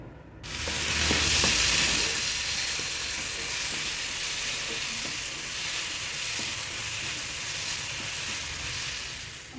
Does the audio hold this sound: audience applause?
no